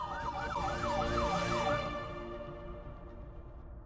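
A siren wails in rapid rising-and-falling sweeps, loud at first and then fading away as a low engine rumble continues.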